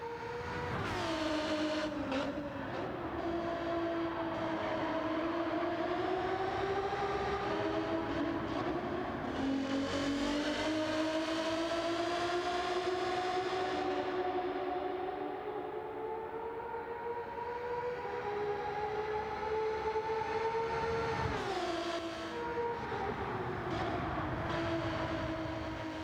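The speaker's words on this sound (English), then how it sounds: "That is the sound of the car." An Alfa Romeo 155 2.5 V6 TI from 1993 drives in Gran Turismo 7. The V6 engine holds a steady, loud drone that rises and falls in pitch through the gears, with no voices over it.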